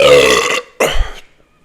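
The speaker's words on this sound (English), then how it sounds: "I feel like your burp that you just had was better than mine right there" Two loud, close burps during a casual burping contest, the first long and drawn out, the second shorter and rougher after a brief pause, with no talk over them.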